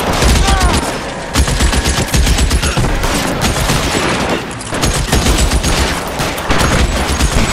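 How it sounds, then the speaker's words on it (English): Loud, sustained shootout in L.A. Noire, dense overlapping pistol and machine-gun fire crackling almost continuously, with only brief gaps between volleys. "Just bumping into people who are currently shooting."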